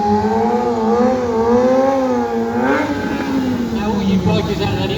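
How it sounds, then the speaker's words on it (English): A motorcycle carrying two riders in a straight-line wheelie at a stunt show, its engine holding a rising, wavering tone loud and close, with a voice talking over it. "Straight line wheelie."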